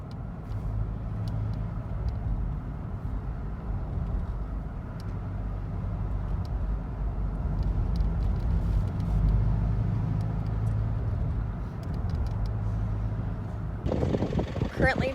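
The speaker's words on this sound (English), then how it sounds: "So we're just leaving Marrakech in 4x4." A 4x4 driving out of Marrakech toward Ouarzazate gives a steady low road and engine rumble inside the cabin, continuous throughout and briefly louder near the end.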